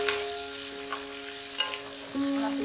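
Chopped onion and a little green onion sizzle in a tadka for Punjabi kadhi, a soft steady frying hiss with a few light clatters and a brief tonal squeak near the end.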